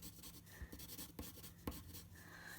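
Pencil shading on paper, making scratchy hatched marks for tone; a soft, continuous scratching texture with a few sharper taps, fairly faint and close with no voice.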